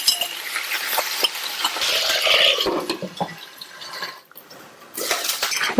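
Potato pieces frying in oil in a pan while a spoon stirs them, giving a sizzling hiss with scraping and light clinks of utensil on metal, close and fairly loud with no talk.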